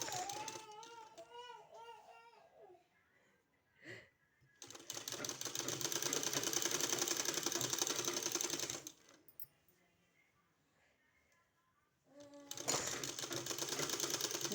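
A sewing machine stitches a fabric sleeve, running in two loud sustained bursts separated by a quieter stretch with faint handling noises.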